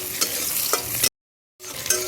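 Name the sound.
spice paste (masala) being fried in a pan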